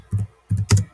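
Quick bursts of typing on a computer keyboard during a Nitro Type typing game, three short clusters of close, crisp key clicks separated by brief pauses.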